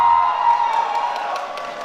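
Loud crowd cheering and applause greeting actors at a film red carpet event, a dense steady roar of clapping and shouts that eases slightly toward the end.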